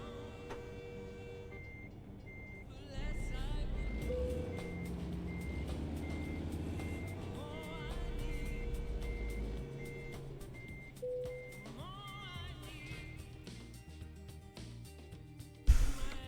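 Reversing beeps from a truck in American Truck Simulator repeat in a steady evenly spaced pattern over a low, continuous engine rumble, with occasional air-brake hiss and clunks.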